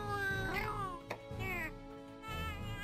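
Meowing from the Palico cat companion in Monster Hunter 4 Ultimate, several clear drawn-out meows at moderate volume over a steady game background hum.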